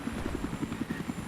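Helicopter in the video game Battlefield 3, its rotor producing a fast, even thumping pulse over a continuous engine whine, close and prominent.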